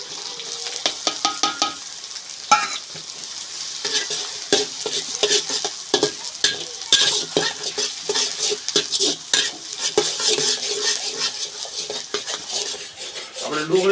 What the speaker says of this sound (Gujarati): પેલા આપણે થોડીક તેલમાં ડુંગળીને તળાવવા દઈશું